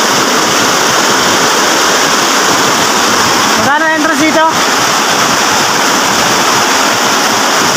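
Steady loud rush of river water at Taludtud River in Majayjay, Laguna, continuous and close, with a brief voice speaking over it midway.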